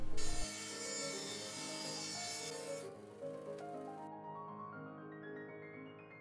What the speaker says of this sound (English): Now I'm using the bandsaw, following the lines to cut the handle to size.